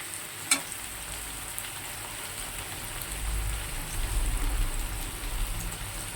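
Potatoes, onions and tomatoes fry in oil in a kadai for a paneer dish, giving a steady, close sizzle that swells slightly toward the end, with one brief knock near the start and no talking.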